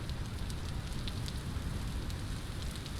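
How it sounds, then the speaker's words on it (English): Wind-driven rain in the Vintage Story game, a steady dense hiss of rainfall with scattered faint droplet ticks, continuous and even, no voices. "The rain is definitely going sideways"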